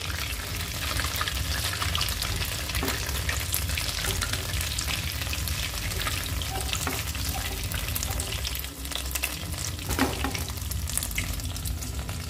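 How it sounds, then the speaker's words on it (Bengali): Rolls frying in oil in a pan give a steady, close hiss and sizzle with faint stirring clicks and scrapes, running continuously with no talk. "বাকি দুটো একইভাবে ভেজে নেব।"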